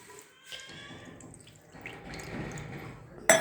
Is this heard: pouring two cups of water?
yes